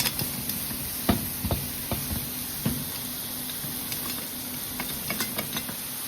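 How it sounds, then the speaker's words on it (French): Lardons sizzle steadily in a pan with no added fat, a soft continuous crackle broken by occasional stirring scrapes and light knocks of a utensil against the pan. "Je fais revenir les lardons."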